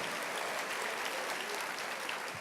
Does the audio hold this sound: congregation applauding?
yes